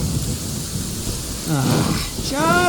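Rain and a low thunder rumble from a Genshin Impact lightning storm fill the background throughout, with a voice briefly speaking over the storm near the end.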